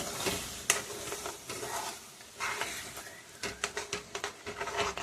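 Eggs and onion stirred together in a hot pan for egg bhurji, loud continuous sizzle with repeated spatula scrapes and taps, quickening into a rhythmic run of strokes near the end.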